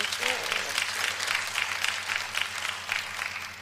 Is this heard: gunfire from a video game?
no